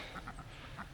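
A few short, nasal quacks from ducks, close together over a single second, with a soft outdoor background.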